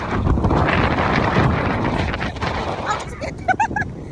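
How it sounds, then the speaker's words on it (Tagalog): Heavy wind buffeting a microphone on the beach at Myrtle Beach, South Carolina, a loud continuous rumbling roar that dips slightly near the end, with a voice speaking over it. "God, so windy."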